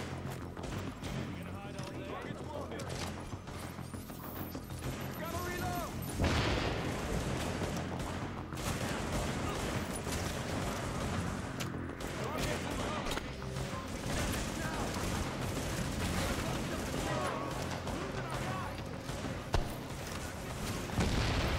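Dense, sustained gunfire in a shooter game, incendiary rounds being dumped into an elite enemy, with booming impacts running throughout and players talking over the shooting.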